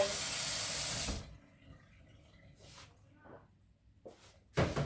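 Tap water gushing loudly into a kitchen sink for about a second before it is shut off, followed by quieter clatter and a voice.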